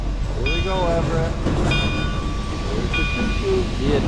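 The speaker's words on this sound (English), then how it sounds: "They've blown the whistle, they're ringing the bell." Steam train preparing to depart beside a caboose, with repeated whistle blasts at intervals and a steady bell ringing over constant engine rumble, outdoors with people talking nearby.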